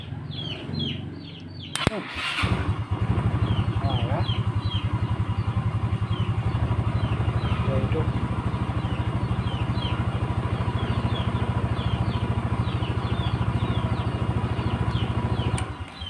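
A Yamaha Xeon GT 125 scooter's starter is jumpered and the engine cranks in a loud, steady, rapid churn that lasts most of the stretch after a short click, while chickens cluck faintly in the background.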